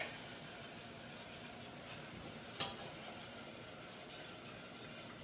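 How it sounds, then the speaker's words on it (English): Milk being whisked into a brown butter sauce in a pan, a faint steady hiss and soft stirring with one brief clink partway through. "And I just wanna keep whisking"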